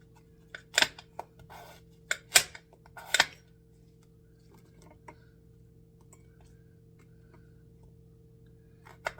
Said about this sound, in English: this potato does not want to cut